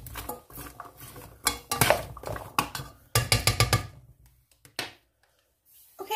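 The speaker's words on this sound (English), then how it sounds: "you frequently want to stir your vegetables and just make sure they're all cooking evenly" A utensil stirs minced garlic and vegetables in a soup pot, giving loose clinks and scraping clatters in uneven bursts that pause briefly before one last knock.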